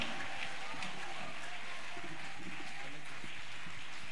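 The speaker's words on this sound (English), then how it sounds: "Clapping, they need your clapping." An audience claps for performers in a dense, distant wash of applause with crowd noise and faint voices underneath, steady throughout.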